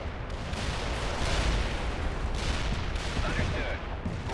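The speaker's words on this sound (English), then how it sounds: "This is gonna be a nice fucking artillery drop right here" An artillery barrage in the video game World in Conflict rumbles as a continuous heavy roar of blasts and crackling impacts, dense and loud throughout with no clear gaps.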